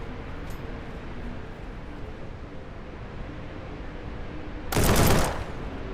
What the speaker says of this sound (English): This is sort of shotgun, man.